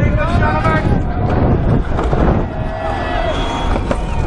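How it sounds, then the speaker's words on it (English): Strong outdoor wind buffeting the microphone, a loud, rough, continuous roar with gusty swells, mixed with whistling tones and distant motor noise throughout. "I don't like the wind."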